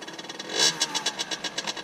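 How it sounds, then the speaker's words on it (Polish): A small, brand-new 50cc two-stroke motorcycle engine, still being broken in, revs hard close by in a quick series of sharp, rhythmic bursts that rise and fall about every fifth of a second. "ten motorek wymaga kręcenia tymi obrotami"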